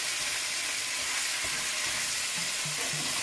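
Potatoes and onions sizzle loudly in a skillet as a constant dense hiss, with soft scraping and bumps as they are turned over, and no one speaks.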